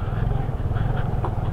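A Yamaha PG1 motorcycle is ridden off-road under throttle. Its engine makes a steady, close, low-pitched throbbing that holds without a break.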